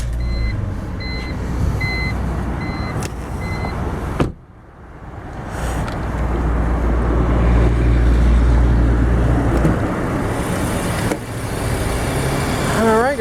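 The 2.5-liter inline six of a 2001 BMW 325i idles with a low steady hum after a brief electronic chime and a door or cabin clunk, the engine settling into an even purr.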